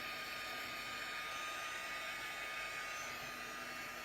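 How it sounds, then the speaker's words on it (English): A heat gun blowing hot air over a craft card project gives a steady, even whooshing roar with a constant whine, unbroken for the whole stretch and fairly quiet. "So at this point our heat gun will get pretty warm"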